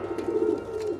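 Doves coo nearby in a soft, low, rolling call that repeats twice within a second, clear and alone.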